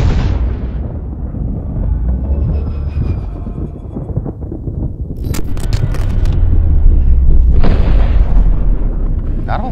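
A 9mm gunshot fired through a ballistic backpack, a loud booming report with rumbling echo, followed by a couple of sharper cracks and continuing rough outdoor noise.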